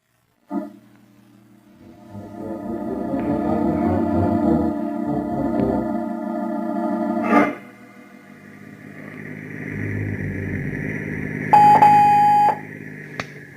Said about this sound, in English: I shall phone him, Mr. Argyle